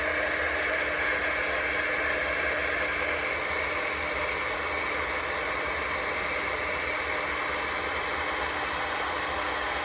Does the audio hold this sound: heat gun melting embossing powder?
yes